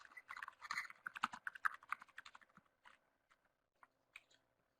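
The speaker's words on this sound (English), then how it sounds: "I'm just actually going to type that up into the chat pod here" Fingers tap out a message on a computer keyboard in a quick, dense burst of keystrokes that thins to a few scattered, quiet clicks, close and alone.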